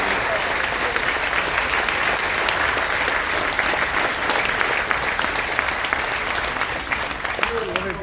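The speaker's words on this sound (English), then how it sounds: "can we give them a big round of applause for their commitment and their sacrifice?" A large crowd aboard the cruise ship Carnival Dream applauds loudly and continuously, a dense steady clapping that holds for the whole stretch.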